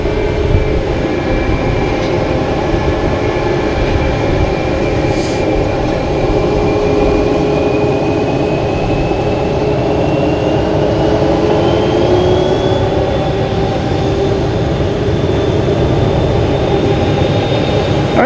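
A Lufthansa Boeing 747 arriving at Boston Logan Airport gives a loud, sustained jet roar with a slowly rising turbine whine, steady and close throughout, with no talking.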